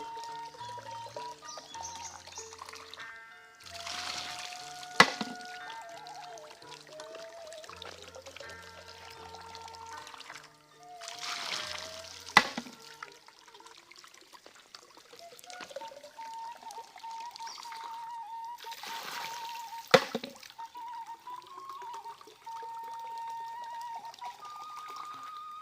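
Bamboo water spout used as a pest repeller, its water trickling steadily with soft pouring, a few sharp knocks and brief bursts of broadband splashing at intervals, fairly quiet and without talk.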